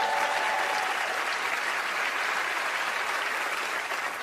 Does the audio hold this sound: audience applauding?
yes